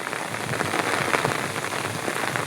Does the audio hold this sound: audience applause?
no